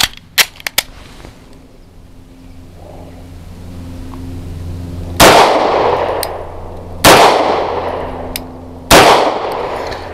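A CZ 75 BD pistol fires three loud, sharp shots of Federal HST 124-grain ammunition, each cracking and ringing out with an echoing tail, spaced about two seconds apart after a few quiet metallic clicks and handling noises.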